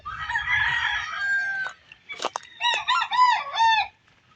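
Chickens on a farm pen, with a rooster crowing loudly and close in repeated bursts, followed by a run of clucking and squawking calls from the flock.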